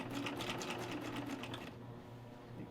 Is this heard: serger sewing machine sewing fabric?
yes